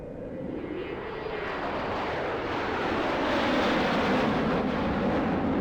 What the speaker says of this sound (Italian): Riprendiamo l'aereo e andiamo.